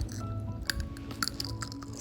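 Roasted pumpkin seeds crunched between the teeth close up, a steady run of crisp bites and chewing over roughly two seconds with no talking.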